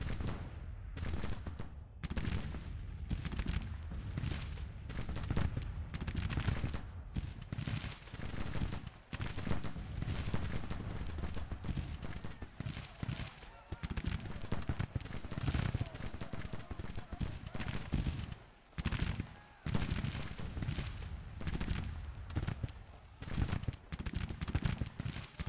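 Continuous musket volleys and booming artillery fire in the American Civil War strategy video game Grand Tactician: The Civil War, a dense, crackling battle din with no break across the whole stretch.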